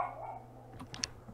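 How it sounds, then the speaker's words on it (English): A dog barks a few short times in a room, faint and somewhat distant, the quick yaps arriving near the end over a low steady hum. "My dog is barking."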